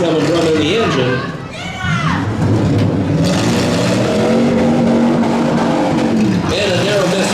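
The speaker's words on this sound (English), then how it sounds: "That's where that popping's coming from in the engine." Midsize vans, trucks and SUVs roar and rev at a Mauston, Wisconsin demolition derby, engines swelling and dipping under a loud announcer and crowd chatter, with popping not clearly separable from the din.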